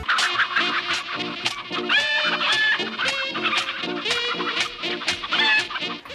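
Chickens cluck repeatedly in the Plants vs Zombies video game, a busy layered stream of game-style clucks over bright musical effects and chimes, loud and continuous with no talking.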